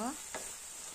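Chilli momo mixture with Kashmiri chilli being stirred in a hot pan: a soft scrape and faint sizzle over a steady hiss, brief and quiet.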